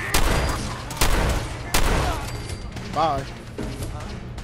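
Gunfire in Fallout 4 hits in sharp loud bursts near the start, at one second and again near 1.7 seconds, over a steady low rumble, with voices talking across the clip and a short spoken word.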